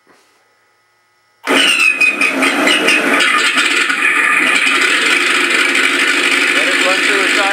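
An FMS FW-190 RC warbird's Mr. RCSound V4 sound system fires up abruptly after a brief voice, then runs as a loud, continuous simulated piston-engine drone that settles into a steady, slightly pulsing idle.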